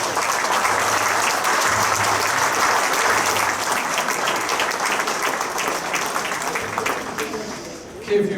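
Sustained applause from an audience at the Carbon County Sports Hall of Fame ceremony in Memorial Hall, Jim Thorpe, a loud, dense clapping that holds steady before tapering off, with faint voices underneath.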